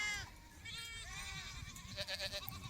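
Young goat kids bleat in short, thin cries while suckling from their mothers during milking time, fairly close but soft, with someone talking faintly in the background.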